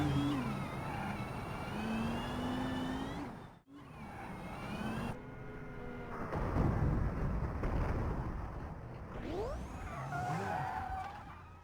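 Mercedes-Benz A45S with a turbocharged engine in the BeamNG Drive driving game, revving and accelerating with rising whine and turbo whoosh, tires skidding and squealing, continuous and loud with a brief cut near four seconds.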